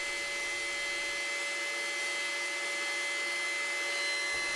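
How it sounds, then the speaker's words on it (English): A PantoRouter trims the excess length of a glued-in dowel, a steady high-pitched router whine with a constant tone, close and loud, with no talking. "Freeing the guide bearing from the template allowed us to trim the excess length of the dowel."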